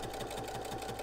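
A sewing machine fitted with a tape stitching foot runs with a rapid, even rhythmic chatter of needle strokes, close and steady for about a second with no talking.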